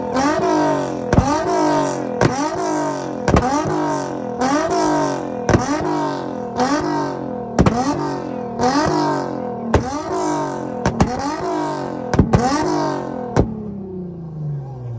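Nissan Z car at an import rev battle, its engine revving over and over in a fast, steady rhythm, each rev climbing sharply then snapping back with a pop, loud and close for about fifteen seconds.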